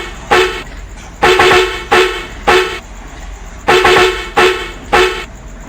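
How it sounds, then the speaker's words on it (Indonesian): A Hino 500 truck horn in a video game sounds in about seven short, loud honks, some in quick succession, with brief silent gaps between them. "Oke, lanjut untuk klakson 1."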